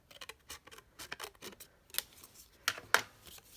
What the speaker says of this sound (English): I think I might just cut this square off